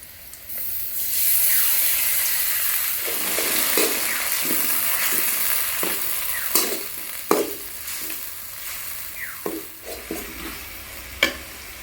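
Ground masala frying with onions in a pan for chicken goda masala, a steady sizzle with intermittent scraping stirs and clinks of the spoon growing more distinct toward the end.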